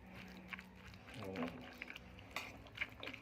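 Dinakdakan, a Filipino grilled pork dish, being mixed in a bowl: soft clinks and scraping of a utensil against the bowl, quiet and irregular, with faint speech in the background.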